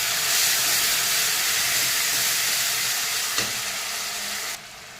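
Onion paste frying in oil with cumin and a bay leaf, a loud, steady broadband sizzle that runs unbroken at close range and then drops sharply near the end.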